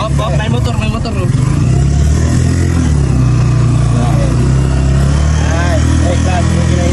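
A motorcycle passes on a rural road during a clutch-control riding lesson, its mid-pitched engine droning steadily and loud throughout, with people talking over it.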